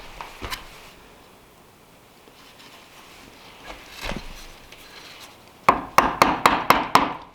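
A small chisel works a brace mortise in a timber frame beam, with a few scattered knocks and scrapes first, then a quick burst of about six sharp mallet strikes close by near the end.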